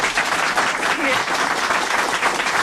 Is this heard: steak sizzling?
no